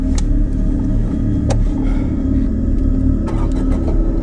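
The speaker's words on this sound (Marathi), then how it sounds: "ए भाई ये चल चल विनायक, गाडी स्टार्ट कर," A car engine turns over and settles into a loud, steady low rumble that holds close and unbroken, with a few sharp mechanical clicks along the way.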